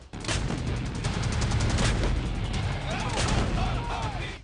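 An M777 howitzer fires during a test at Jaisalmer, Rajasthan, producing a loud, sustained booming roar that fills the whole stretch with heavy blast energy and rolling echoes.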